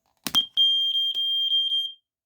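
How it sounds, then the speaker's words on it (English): A First Alert SA130 smoke detector with a round sensor and electronic horn gives a piercing high-pitched alarm tone for about a second and a half after a battery is inserted, preceded by brief clicking and handling noise. "a characteristic of these 79R era PCBs with the round sensor and the electronic horn is they like to go into alarm when you put the battery in"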